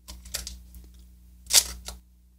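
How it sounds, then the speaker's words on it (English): Mechanical shutter of a Nikon Nikkormat SLR film camera, a few soft clicks then one loud, crisp release with a short follow-up clack, close up with no talking. "I didn't go through and show you the shutter sound on this thing."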